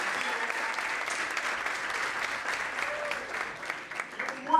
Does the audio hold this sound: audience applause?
yes